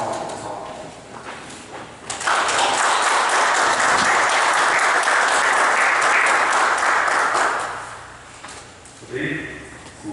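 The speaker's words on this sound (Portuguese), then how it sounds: "Uma salva de palmas, pessoal." Loud applause from attendees at an ordinary municipal legislative council session swells suddenly, sustains as dense steady clapping for several seconds, then fades out, with faint room sounds and talk around it.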